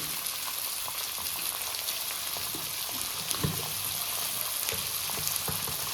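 Mustard greens fry in a pan with a steady, close hiss of sizzling, faint scattered crackles and soft stirring, and no talk.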